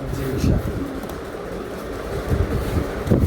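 Racing pigeons at a pigeon sale coo in low, throaty bursts, several birds close by with repeated soft calls over a steady background hum.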